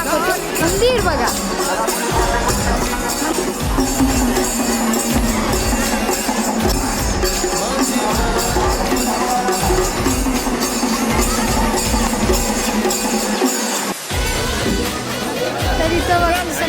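A dense crowd at the Tuljapur temple fills the air with steady, close chatter and babble, while someone talks over the continuous hubbub.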